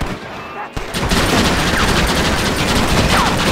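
Rapid semi-automatic gunfire from Red Dead Redemption during the assault on Fort Mercer: after a brief quieter moment, a dense, continuous burst of loud overlapping shots fills the rest of the clip.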